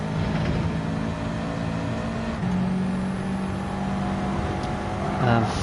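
A race car in Gran Turismo 7 held at full throttle, its engine droning steadily and loud with a rising pitch through several seconds, a brief shift or lift near the end, under a driver's talk.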